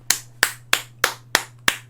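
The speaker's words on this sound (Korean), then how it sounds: "기립박수" Six sharp single claps land in an even, steady rhythm, close and crisp with short gaps between them and a low steady hum underneath, offered as a standing ovation during a Manchester United versus Chelsea reaction.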